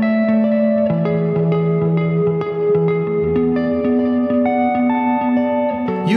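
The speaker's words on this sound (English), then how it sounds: "You can easily attain wonderfully round, somber tones just by flicking the switch at the top of your Jazzmaster." A Fender Jazzmaster electric guitar played on its dark, clean rhythm-circuit tone gives round, mellow sustained chords that change steadily, ringing with light reverb at an even, full level with no talk.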